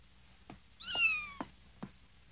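A kitten gives a single clear, rising-then-falling meow in a quiet setting, with a few soft thumps around it.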